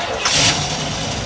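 A car with a 455 big block engine cranking over and catching, a brief loud burst settling into a heavy, rumbling idle, close by.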